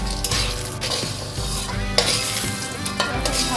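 Lentil bori frying in oil in a pan, a steady sizzle broken by scraping stirs and occasional clinks of the utensil against the metal, close and clear with no voices.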